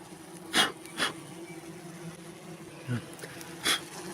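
A honeybee swarm buzzes at a hive while acacia is in bloom, a low, steady, fairly faint hum broken by a few brief louder rustles and knocks close by.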